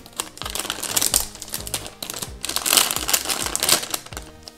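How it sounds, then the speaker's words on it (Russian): A plastic packet holding a squishy toy is torn and opened up close, with loud crinkling and rustling plastic in irregular bursts and no talking. "Еще один пакетик со сквиши откроем"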